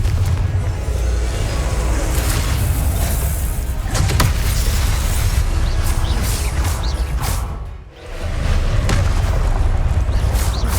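A blasting-spell explosion effect bursts out loud and continuous in a wizard-training action scene, with booming rumble that dips briefly near the end before surging again.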